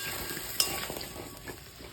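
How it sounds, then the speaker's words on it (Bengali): Cubed taro and potato go into hot oil left from frying fish and seasoned with five-spice, setting off a steady close sizzle with a sharp clink near the start and soft stirring scrapes. "ভাজা হয়ে গেছে, এর মধ্যে এবার কচু আলুটা দিয়ে দেবো আমি যেটা ধুয়ে রেখেছি।"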